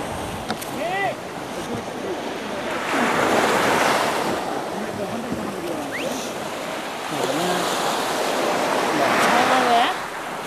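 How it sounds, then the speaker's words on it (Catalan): Sea waves wash steadily around a kayak on a calm, cold sea, a broad surging hiss with gusty wind noise on the microphone and voices talking over it. "En aquesta secció de caiac la mar està tranquil·la"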